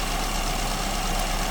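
A car engine fitted with an SU carburetor idles steadily up close, a dense continuous hum with a slight unevenness in speed as the idle wavers, no voices.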